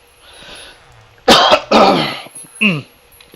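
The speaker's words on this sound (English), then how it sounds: "I do apologize for the coughing" Several harsh, close coughs in quick bursts, with a throat-clearing rasp after a short pause, over Minecraft gameplay.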